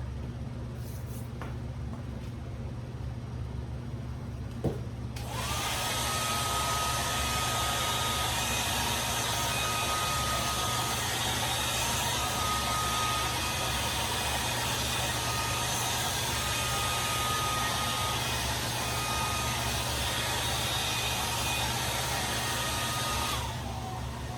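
Hair dryer blowing to dry paint on a pumpkin, a loud steady whir that switches on after a few seconds, runs continuously and cuts off near the end.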